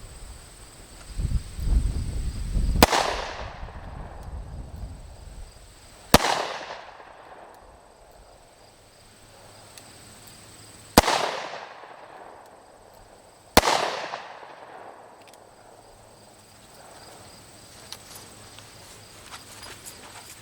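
Four sharp gunshots from an S333 Thunderstruck pistol firing two bullets at once ring out several seconds apart, each a loud crack trailing into a decaying outdoor echo, with rustling before the first.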